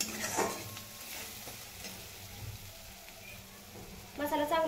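Spice masala roasting in oil in a pan for a paneer curry, a steady low sizzle with occasional stirring scrapes, louder toward the end.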